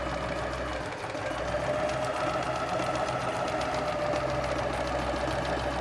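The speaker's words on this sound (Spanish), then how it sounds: "lo vamos a coser por el borde, por acá, con un pie para cierres convencional" Sewing machine stitching along a fabric edge for a corset pattern using a conventional zipper foot, a steady continuous mechanical whir with fast rhythmic needle clatter, close and loud throughout with no talking.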